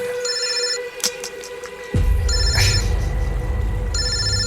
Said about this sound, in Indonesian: tiba-tiba handphoneku berdering